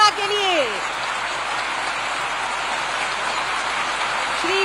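An audience at a Jharkhand government welfare scheme event applauds in a dense, steady wash of clapping that continues throughout, with a brief voice at the start.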